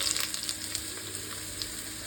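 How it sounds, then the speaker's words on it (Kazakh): Onions frying in a few spoons of oil in a heated pot over medium flame give a steady, close crackling sizzle throughout, with no talking. "пиязымызды қуыра бастаймыз."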